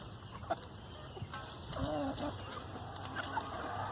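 Chickens clucking softly as they pick beetles off garden plants, a few short calls rising over steady outdoor background noise at moderate distance.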